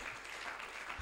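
A church congregation claps together during a worship service. The applause is brief and faint, a dense even patter heard from a distance.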